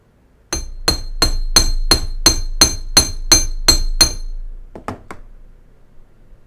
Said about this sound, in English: Hammer this one a slight bit more.